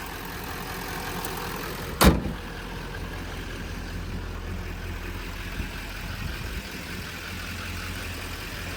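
A 2012 GMC Sierra 2500 SLT Z71 4x4 pickup's 6.6 LML Duramax diesel idles steadily and close, with one brief sharp knock near the start.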